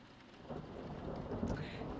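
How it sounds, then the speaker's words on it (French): Rain with thunder rumbling as ambience during a tabletop role-playing game, a steady wash of downpour with low rolling thunder, fairly soft and with no talk over it. "La pluie continue."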